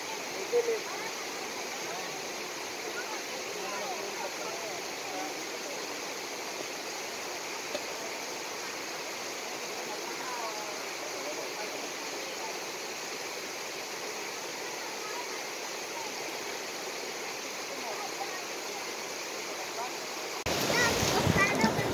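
River water rushing and splashing steadily at Nagcarlan while children play and swim in it, with voices faintly mixed under the continuous flow and a brief louder burst near the end.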